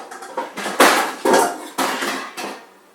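A metal cooking pot is pulled out and handled in a home kitchen, giving a run of loud, close clanks and bangs spaced unevenly over a few seconds, with ringing metallic knocks between them.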